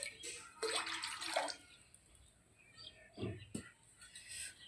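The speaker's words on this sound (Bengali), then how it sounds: "পেঁপে তেতো করলা এই সবজির মধ্যে এই পরিমাণ মতো জল দিয়ে দেবো" Water is poured into a pot of papaya and bitter gourd, a close splashing burst of about a second followed by quieter drips and a couple of soft knocks.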